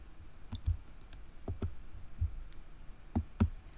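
Computer mouse clicks during a software install on a Linux system, several sharp, close clicks, some in pairs, spaced across a quiet background with no talk.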